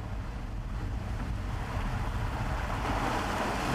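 Heavy ocean swell rolls against a boat off the Galapagos coast near sharp black lava rock, a steady roar of waves and water rushing, mixed with wind buffeting the microphone and slowly growing louder.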